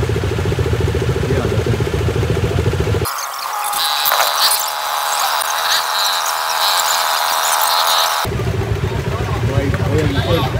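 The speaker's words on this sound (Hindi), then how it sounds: "सामने वो जो ट्रक है और इतनी सारी बाइक्स हैं, निकलने की कोशिश चल रही है" A large truck and many motorbikes idle in a jammed road in India. Engines give a continuous, loud rumble, with a stretch of harsher, brighter noise in the middle.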